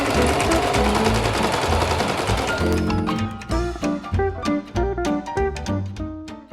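Sewing machine stitching the shoulder and side seams of 1930s-style beach pajamas: a dense, steady whir at first, then a loud, close rhythmic run of rapid stitching bursts with short pauses between them, and no talking.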